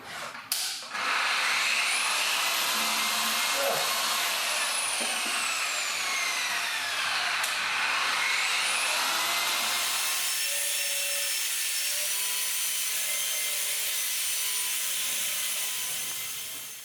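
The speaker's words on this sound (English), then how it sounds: "It's always difficult polishing these loose when they're not in the vehicle." A machine polisher works a loose Porsche body part held by hand off the car, giving a steady, loud whirring rub that runs throughout with small shifts in pitch.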